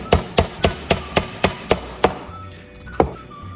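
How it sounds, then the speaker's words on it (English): A hammer drives nails into wood while a BBQ caddy is assembled, with about eight sharp, evenly spaced close strikes, a short pause, then one more blow. "make sure to hammer them in nice and straight"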